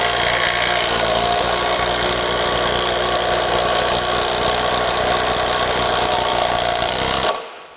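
A Kobalt 24V brushless impact driver hammers lag screws in one long, loud, continuous rattling burst that cuts off abruptly near the end.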